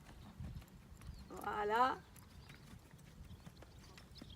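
Horse hooves trotting during a riding lesson with a mare named Cantante, a faint rhythmic clip-clop running under an instructor's nearby voice and the rider's response.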